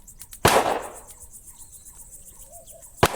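Two sharp gunshots crack out in the video game Rosewater, the first followed by a decaying ring, the second closing the clip, with crickets or insect chirping in the quiet gap between.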